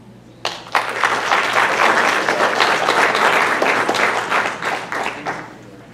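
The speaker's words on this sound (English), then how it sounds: "If we can give them a round of applause." Steady audience applause at a town hall meeting, starting abruptly and holding as a dense wash of many hands clapping for several seconds, fairly close and loud, with no one speaking over it.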